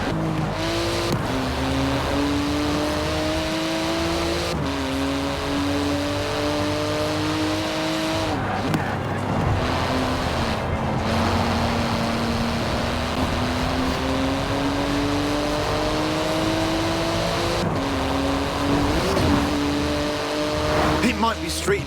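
A 700-horsepower carbon fibre race car driving in Forza Horizon 4, its engine droning steadily and climbing in pitch through repeated gear shifts, with brief tyre squeals and someone narrating over it.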